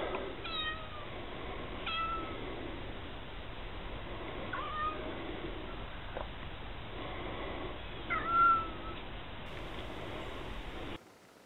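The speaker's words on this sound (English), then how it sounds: "That is the little injured kitty" An injured, limping cat meows repeatedly, a few plaintive calls spaced across the stretch, close by over a steady background hiss.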